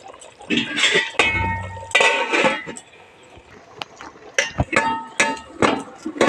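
A pot lid clatters and clinks against a cooking pot of boiling potatoes, with a few sharp metallic knocks and a scrape amid bubbling liquid, close and fairly loud.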